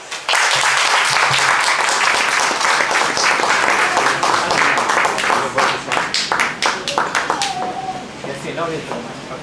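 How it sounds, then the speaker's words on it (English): Audience applause welcoming a speaker at a talk, loud dense clapping that gradually thins into scattered individual claps, with a voice briefly audible as it fades. "Please give him a warm round of applause."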